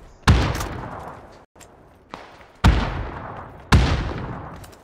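Gunfire in a video game: three loud, sharp shots about a second apart, each with a booming, echoing tail, plus a fainter crack between them, heard alone without talk.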